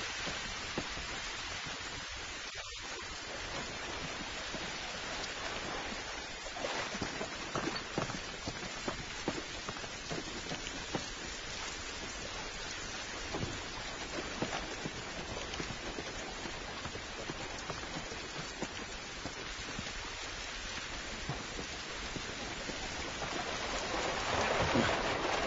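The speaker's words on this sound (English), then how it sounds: "This rain ain't gonna do us any good." Steady rain pours outdoors in The Last of Us on PS3, a constant hiss of falling water with no break for about twenty-five seconds.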